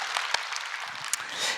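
A Korean church congregation applauds together during an Easter Sunday worship service, a steady wash of clapping with a few sharper claps.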